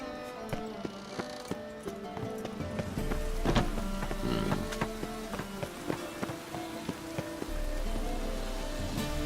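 Steady rain patters over a layered soundscape in The Witcher 3: Wild Hunt, with scattered knocks and clattering steps and a low ambient drone underneath.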